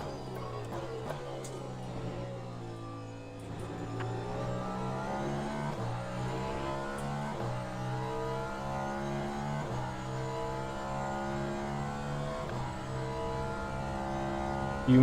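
A hypercar engine in the Le Mans Ultimate racing game drones steadily, its pitch climbing and dropping through repeated gear changes, a continuous close mechanical roar with no talk over it.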